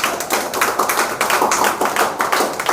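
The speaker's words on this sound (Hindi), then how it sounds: "ताली बजाओ जरा।" Several people clap their hands together in a brisk, steady burst of close, sharp claps lasting a few seconds, with no talking over them.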